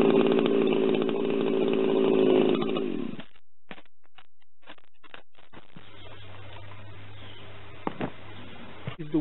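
A chainsaw, drop-started in the West Coast style with the throttle held wide open, runs loud and close at high revs for about three seconds, then cuts off, leaving scattered knocks and faint handling sounds.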